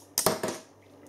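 A beer bottle cap from a Maltese craft brewery is opened, giving two quick, close metallic clicks and a short hiss that fades out fast, with no talking.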